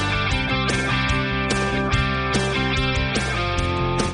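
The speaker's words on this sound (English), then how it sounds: "imagine an AI generated image can sound like this" Synthetic-sounding music with a steady pulse plays, dense tones and repeating beat-like hits blurring together in a slightly smeared, artificial texture.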